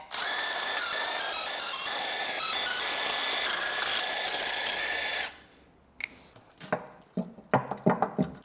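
A power tool on a prototype hydrogen BMW V12 engine from an E31 850i whines loudly and steadily while extracting a broken bolt, then stops, followed by scattered sharp clicks and clanks of metal.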